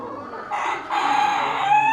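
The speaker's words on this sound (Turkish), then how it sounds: "Ha bu 94 almış bu dövüş horozu." A fighting rooster at a small animal show crows loudly and close by, one sustained call with a rising, drawn-out tone lasting over a second against quiet hall ambience.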